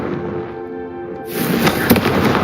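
The Confringo fire spell is cast in Hogwarts Legacy, a soft humming buildup followed by a sudden bright crackling burst like fireworks, loud and close.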